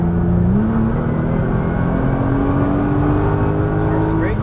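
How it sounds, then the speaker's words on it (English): A Nissan GT-R accelerates hard out of a corner, its engine note rising steadily and loud under continuous speech from the driver, with tyre and road rumble beneath. "Now start to squeeze the accelerator."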